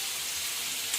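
Pork frying in a pan for a gongura curry, a steady bright sizzle with dense crackling hiss and no voices.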